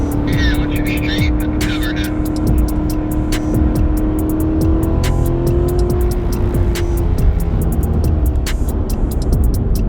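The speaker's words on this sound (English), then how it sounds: "as soon as you pull out of it, you have a straightaway that you can just gun it." A C7 Corvette Grand Sport accelerates hard on the track at Sonoma Raceway, its engine droning loud and steady throughout with a rising pitch, close up from inside the car, while voices talk over it.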